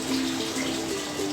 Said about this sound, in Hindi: ऐसे जब पानी चालू हो जाए